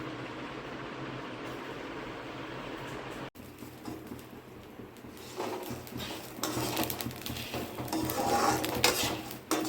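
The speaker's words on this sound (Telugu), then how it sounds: "ఇలా వేయించుకోవాలండి, కొంచెం బాగా ఫ్రై కావాలి." Snacks fry in oil in a pan on a home stove, a steady low sizzle with scraping and clinks of a utensil against the pan that grow busier toward the end, with no talking.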